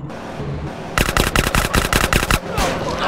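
Rapid drive-by gunfire from a car in GTA San Andreas, loud bursts of automatic shots in quick succession for about a second and a half, starting abruptly after a quieter stretch of game ambience.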